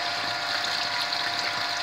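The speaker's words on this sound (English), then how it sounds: "here's the water that came out. You can see it's not at a high rate of, it's not a high pressure that's going through there" Murky water flushes out of plumbing lines at low pressure, a steady, even hiss and trickle with a faint pump-like hum underneath, close by and with no speech.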